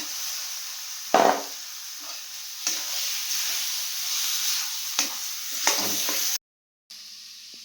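Tomato and lentils sizzle steadily in a pan with dried fish, broken by several sharp scraping stirs of a spatula, close and moderately loud with no talking.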